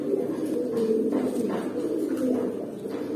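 Pigeons of an old fancy breed coo softly and continuously at close range, low throaty rolling calls overlapping one another in a loft, with no talk over them.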